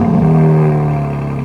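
A BMW M2 G87 engine fires up close by, settling into a loud, steady, deep-toned rumble with a strong low hum throughout.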